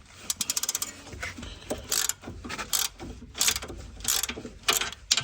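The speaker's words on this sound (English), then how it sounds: "So that's the nut turning." A ratchet wrench clicks rapidly as it turns a 30mm nut on a Peugeot 308 front drop link during strut removal, with fast bursts of close, sharp pawl ticks separated by short pauses.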